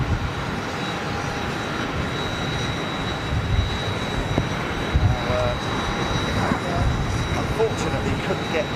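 British Airways jet airliner in BEA retro livery on the apron, with a continuous broad engine roar and a steady high whine, at moderate distance, and faint voices underneath.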